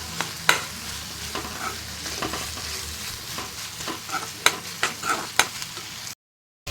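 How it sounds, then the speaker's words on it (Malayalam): Fish curry masala being stirred continuously in a pan, with a steady frying sizzle broken by repeated sharp scrapes and knocks of the spoon against the metal, close up and with no one talking. "സോ നിങ്ങളിങ്ങനെ കണ്ടിന്യൂസ്ലി ഇളക്കിക്കൊണ്ടിരിക്കാനായിട്ട് ശ്രദ്ധിക്കണം"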